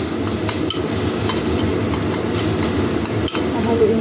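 A pot of food is stirred with a utensil, producing soft scraping and occasional metallic clinks against the pot under a steady background hum, with a couple of sharper knocks; a voice may be faintly present.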